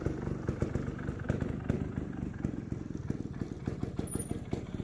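A motorcycle engine turns slow, controlled figure eights at low speed, feathering the rear brake with no clutch, a steady mid-pitched idle-like putter with rhythmic throttle pulses close by and no talking.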